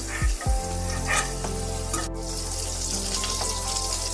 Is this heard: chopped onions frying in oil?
yes